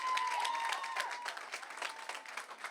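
A church congregation applauding the Lord, a dense wash of many hands clapping at once, steady and fairly loud at first, then gradually thinning and softening.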